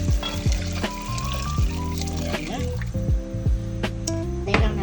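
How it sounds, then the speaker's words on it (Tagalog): Stock poured into risotto rice sizzling in a pan, a steady fry and bubbling hiss with splashing pours and clinks from the pan, while a person talks throughout. "Then, lagyan na natin yung stock."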